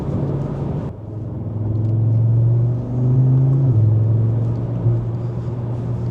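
Expensive car accelerating hard, a loud close engine roar that rises in pitch through the gears, dips once and climbs again, with no talking.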